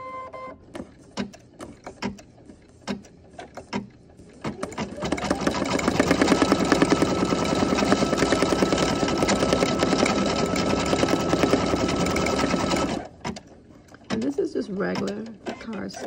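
An embroidery machine stitches a design onto regular cardstock backed with two layers of stabilizer, its steady, loud mechanical whir running for about seven seconds between quieter stretches of clicks and handling.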